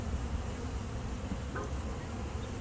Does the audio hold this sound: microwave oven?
no